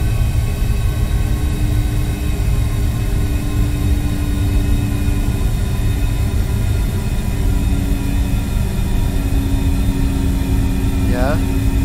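Simulated Boeing 737 MAX engines at idle in a Prosim flight simulator, a constant low droning rumble with faint steady tones, continuous throughout, with a brief rising chirp near the end.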